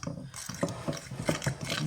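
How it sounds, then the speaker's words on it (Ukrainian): Repeated scraping and clinking as a spoon stirs a thick mixture in a bowl, several quick strokes in a steady rhythm. "Зараз перемішаємо."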